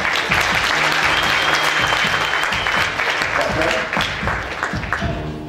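Sustained applause from an outdoor festival audience in Aizkraukle, Latvia, welcoming a band to the stage, a loud continuous clapping crowd with voices mixed in and a slight fade near the end.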